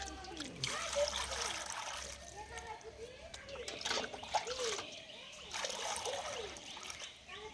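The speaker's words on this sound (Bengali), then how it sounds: "আমি গামলার মধ্যে জল দিয়ে ভরাট করে দেব।" Water pours steadily into a tub being filled for planting a lotus tuber, a close, continuous trickling and splashing that rises and falls over several seconds, with a voice talking over it.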